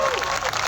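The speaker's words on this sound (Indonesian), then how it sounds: "Kita kasih tepuk tangan dulu dong." An audience claps loudly at a school general assembly, a brief dense burst of applause with some crowd noise mixed in.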